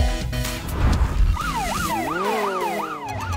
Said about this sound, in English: The white car with a red cross is an ambulance!